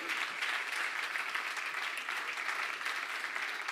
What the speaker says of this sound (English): a warm round of applause to all our Swedes listening right now